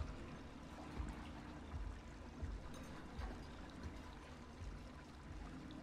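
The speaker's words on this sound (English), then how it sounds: "They can't hear everything over the running water." Running water in the game Little Nightmares, a faint, steady rushing stream with a low rumble and occasional soft thumps throughout.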